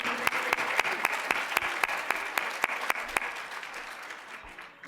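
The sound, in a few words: audience applause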